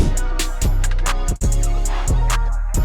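A hip-hop track with punchy drums and sustained synth chords, playing loud and steady with a brief dropout midway.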